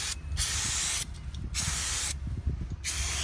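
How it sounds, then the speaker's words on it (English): Brake cleaner from an aerosol can sprayed onto a brake rotor on a 1997 Chevrolet Tahoe: three close, loud hissing bursts of about a second each, separated by short pauses. "I'm going to spray down my brake rotor here with some brake cleaner"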